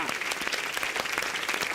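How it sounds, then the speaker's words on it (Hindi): Loud, dense applause from a large audience at a Hindi poetry show, steady and continuous throughout with no pauses. "आपने जो सुना है उसके लिए जोरदार तालियां।"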